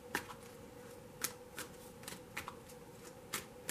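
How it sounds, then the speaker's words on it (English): A deck of tarot cards is shuffled up close, giving repeated crisp riffling bursts at an irregular rhythm over a faint background hiss. "So I am just going to leave them while I shuffle."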